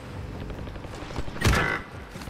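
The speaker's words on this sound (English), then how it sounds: "There's a sniper shooting." A sniper rifle shot in Call of Duty: Modern Warfare cracks once as a single sharp report, moderately loud, against quiet game ambience with no talk.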